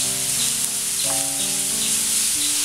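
Chopped onion sautéing with a little salt in a pan for a chickpea masala curry gives a steady, close sizzle throughout, overlaid by sustained tonal chirping calls that shift in pitch, likely squirrels calling nearby.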